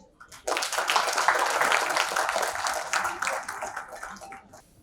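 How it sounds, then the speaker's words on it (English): Applause breaks out after a brief pause, dense and sustained clapping from a crowd that holds steady for several seconds before tapering off. "Please join me with a thunderous applause"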